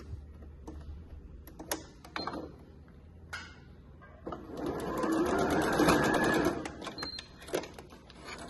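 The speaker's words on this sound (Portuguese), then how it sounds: "juntar um com o outro, alinhar e fazer uma costurinha aqui pra fazer o acabamento" A sewing machine stitches a short finishing seam joining two pieces of a tricoline cotton fabric wallet, a steady mechanical whir swelling for a few seconds amid scattered clicks and handling noises, close and alone without talk.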